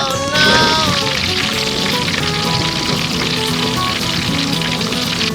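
Pork belly liempo fries loudly in a pan of hot oil, a dense, close, continuous sizzle with crackling spatter and a bit of background music, no clear talk.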